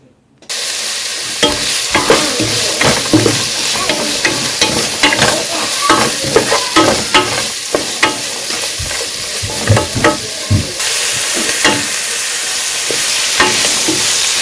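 Onions, jalapeño and thyme sprigs sizzle loudly in a hot soup pot for turkey and sweet potato soup, a constant frying hiss broken by repeated scraping strokes of a spoon stirring close by.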